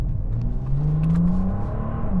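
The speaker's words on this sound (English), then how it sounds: "Did you hear that exhaust?" 2022 Bentley Continental GT Speed exhaust under acceleration, a deep rising engine note that climbs steadily in pitch, close and loud with no talking.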